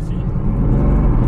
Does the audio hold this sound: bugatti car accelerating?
yes